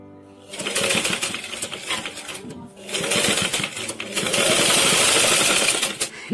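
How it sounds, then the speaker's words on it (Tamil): A tailoring sewing machine runs in bursts while stitching the neckline of a sleeveless umbrella frock, a loud rapid mechanical whirr that pauses briefly and then resumes in longer stretches. "அப்படியே வச்சு தச்சிடுறோம்"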